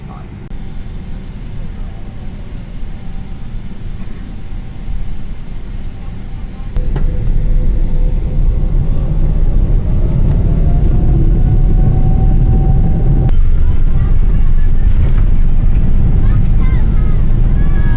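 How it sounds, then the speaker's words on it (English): Inside the cabin of an Emirates Boeing 777 at Singapore during pushback and taxi to runway 20L, a loud, constant low rumble of engines and airflow fills the space and grows heavier partway through. "it's time to push back and begin our long taxi to runway 20L."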